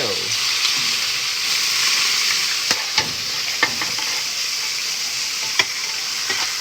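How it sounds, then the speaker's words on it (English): Beef searing in a super hot pan with chilies and canola oil, a loud continuous hiss and crackle of frying with occasional sharp clinks of stirring, close up. "Super, super hot pan. So we're gonna put this beef in. And very hot."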